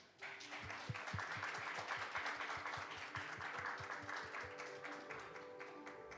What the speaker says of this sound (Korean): 여러분 한 분 한 분 뜨거운 박수로 환영해 주시기 바랍니다